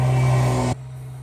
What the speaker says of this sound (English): while the leaf blower was blowing through the air through the pipe